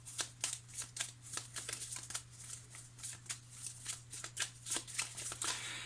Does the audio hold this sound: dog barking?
no